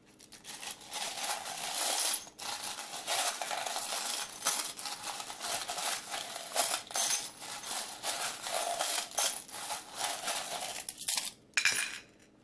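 Small metal charms clink and rattle repeatedly as they are shaken and cast for a pick-a-card reading, a busy jingling series with short pauses.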